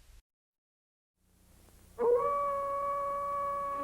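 A Malamute, half dog and half wolf, lets out a long sustained howl that rises in and holds a steady pitch, loud and close, after a brief moment of near silence.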